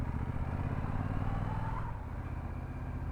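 A Brixton Cromwell 1200 motorcycle engine hums while riding, a smooth continuous low rumble with wind noise, steady and moderately quiet throughout.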